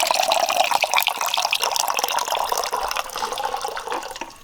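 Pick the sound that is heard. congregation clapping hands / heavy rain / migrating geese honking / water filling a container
water filling a container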